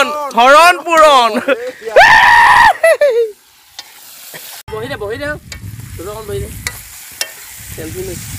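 Meat sizzles and is stirred in a kadai at an outdoor New Year picnic beside a wetland, a soft frying hiss mostly buried under loud, lively voices talking and calling out.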